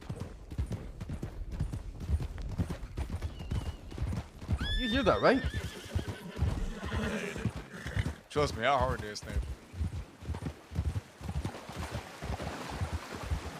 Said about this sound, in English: I heard a horse stampede and I thought it was like multiple riders